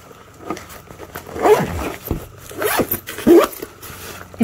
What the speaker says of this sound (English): and you zip it up